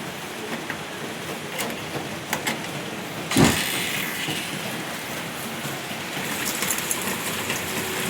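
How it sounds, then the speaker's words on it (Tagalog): Heavy rain pours down steadily in a continuous dense hiss, with a brief louder thump partway through and no voices. "malakas po yung ulan"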